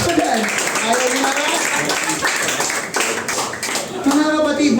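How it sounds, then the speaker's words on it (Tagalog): A church congregation claps throughout, a continuous patter of many hands under a voice speaking over it. "Palakpak nga kung sino maging Kristiyano dyan."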